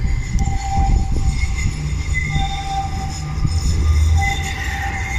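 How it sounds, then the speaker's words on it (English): A tram passes through Stockholm at night with a steady low rumble of rails and wheels, faint high squeals and tones above it, and the noise swells slightly toward the end. "Oh yeah, the trams are cool."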